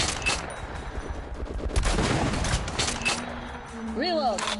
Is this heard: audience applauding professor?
no